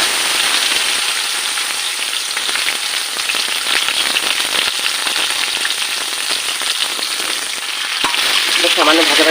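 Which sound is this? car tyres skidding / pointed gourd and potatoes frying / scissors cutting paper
pointed gourd and potatoes frying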